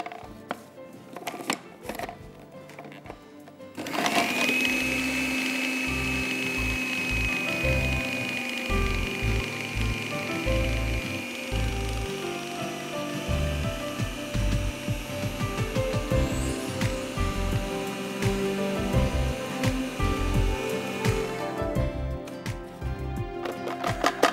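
A food processor whirs loudly and steadily for about twenty seconds as it mixes dough. Its motor whine is broken by irregular knocking thumps as the mixture tumbles, with quieter clicks before the motor starts and after it stops.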